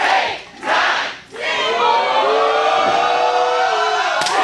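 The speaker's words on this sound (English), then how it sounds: "Listen to this crowd that has packed the Mid-Atlantic Sportatorium." A packed wrestling crowd at the Mid-Atlantic Sportatorium roars and chants loudly and continuously, a dense wall of voices that dips briefly twice before swelling again.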